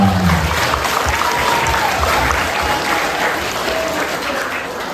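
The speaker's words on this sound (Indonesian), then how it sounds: "Tepuk tangan untuk semua." Applause from a school audience at an Isra Mi'raj gathering in a junior high school, a dense, steady wash of many hands clapping throughout, loud and close, with a few faint voices mixed in.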